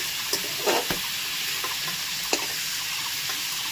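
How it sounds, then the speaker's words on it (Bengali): Shrimp sizzle in hot oil in a pan while being fried lightly for mixed fried rice, a steady crackling hiss with occasional clinks and stirring sounds. "চিংড়িগুলো দেখো ভাজা হয়ে গেছে, ঠিক এরকম হালকা করে ভেজে নেব।"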